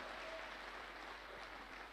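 Audience applause at a motivational talk, a dense steady clapping wash that holds evenly throughout, fairly faint and distant.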